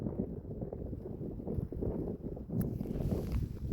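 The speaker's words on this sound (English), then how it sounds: "the wind's getting up a little bit and it's cooling me down" Wind buffeting a microphone outdoors during metal detecting, a steady low rumbling roar with gusty surges, fairly quiet and with no talk.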